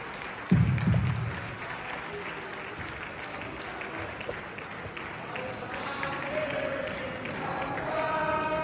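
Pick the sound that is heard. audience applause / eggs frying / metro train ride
audience applause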